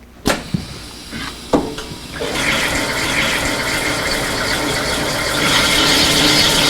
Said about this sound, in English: you simply press start and grinding is done automatically